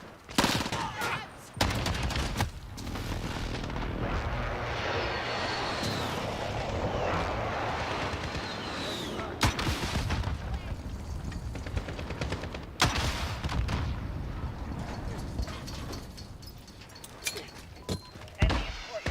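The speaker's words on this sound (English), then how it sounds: "friendly precision airstrike inbound" Bursts of gunfire and heavy airstrike impacts in a shooter game, loud cracks and rolling blasts scattered across the stretch, with a voice talking faintly underneath.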